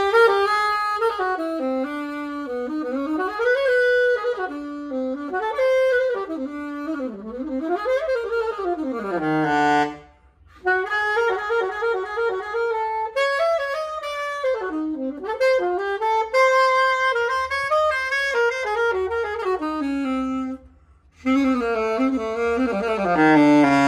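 A Selmer Mark VII alto saxophone in freshly overhauled condition plays solo melodic phrases with sliding, bending notes, close and clear, with two brief pauses between passages.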